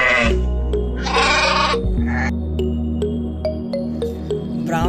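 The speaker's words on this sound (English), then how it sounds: "White sheep, guys." A white sheep bleats loudly in several harmonic calls across the clip, mixed with ringing electronic tones and a steady low hum, with no speech.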